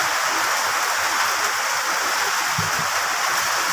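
Heavy rain during a typhoon, a loud, steady wash of hiss pouring down continuously with no letup and no voices.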